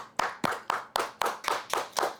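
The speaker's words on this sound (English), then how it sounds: "I want y'all to give her a round of applause." Guest welcomed onto a talk show with clapping: eight or nine evenly spaced, crisp claps in a steady rhythm, close and distinct rather than a dense crowd.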